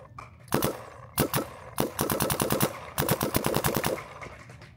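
A paintball marker fires in rapid bursts of sharp, close, loud pops, several quick strings of shots with short pauses between, no talk over them.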